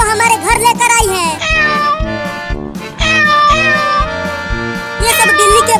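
Cartoon mother cat and her kittens meowing in a rapid, overlapping series of high, loud mews over a bouncy musical backing.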